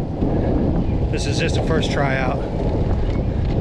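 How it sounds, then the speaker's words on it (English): Low, rushing wind buffets the microphone throughout while someone talks briefly in the middle; the rumble stays steady and close. "It's a little windy"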